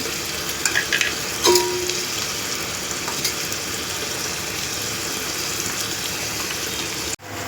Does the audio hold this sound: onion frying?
yes